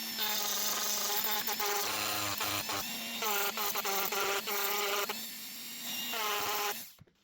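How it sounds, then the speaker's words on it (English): A bench grinder wears down the end of a flintlock pistol spring. Its loud whining tone rises and falls in bursts as the steel is pressed on and pulled away, then it cuts off at the end. "So I'm at the grinder now"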